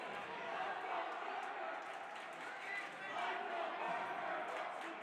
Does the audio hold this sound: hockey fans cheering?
yes